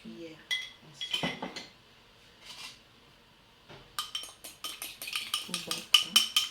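Egg yolk and sugar are beaten in a bowl, producing scattered utensil clinks at first, then a quick run of rhythmic tapping against the bowl. A voice speaks softly in between.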